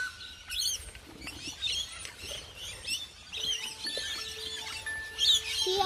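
Birds chirping at a blueberry farm, with many short high tweets and calls from several birds scattered over a soft outdoor background, moderately near and with no talk.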